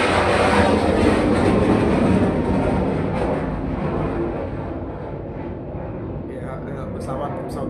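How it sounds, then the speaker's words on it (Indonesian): A military fighter jet on a training flight passes over a house, a loud broad roar that slowly fades and thins as it moves away, with a voice speaking over it. "Pesawat tempur ya lagi latihan ya, udah 2 minggu ya pulang balik depan rumah ya."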